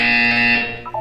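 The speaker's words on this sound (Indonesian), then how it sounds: "When you hear the buzzer, look up at the ceiling." In the video game Portal 2, a loud electronic buzzer blares in a steady, harsh tone for about a second before cutting off.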